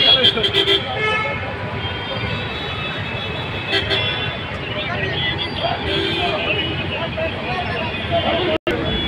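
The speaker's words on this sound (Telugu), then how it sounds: "హైదరాబాద్ ప్రతి పెట్రోల్ బంకు దగ్గర కూడా ఈ విధమైనటువంటి ట్రాఫిక్ నిలిచి ఉంది" Stalled traffic jam at a petrol station in Madhapur, Hyderabad during a fuel shortage, with car and bus horns honking repeatedly over a steady engine rumble and crowd babble, loud and close.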